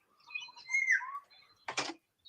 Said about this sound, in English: glorious morning. The birds are singing.